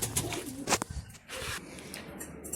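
Pigeons in a loft give soft, low cooing calls in short bursts, heard close by with some faint background noise and no speech.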